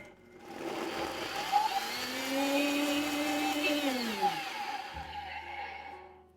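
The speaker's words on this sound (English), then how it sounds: "I really only blended that for about 5 seconds" Kitchen blender briefly chopping dates, a steady whirring motor with a rising and falling pitch as the blades catch the fruit, running about five seconds at close range before spinning down.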